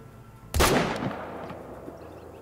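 A single M1 rifle gunshot in the Hunter: Call of the Wild video game, a sharp loud crack followed by a rolling echo that fades out over about a second.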